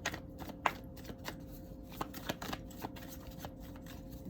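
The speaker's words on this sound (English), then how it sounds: "Let's pull some cards from the Green Witch." Green Witch tarot cards are shuffled and pulled, with soft papery flicks and taps in an irregular rhythm, quiet and close in a still room.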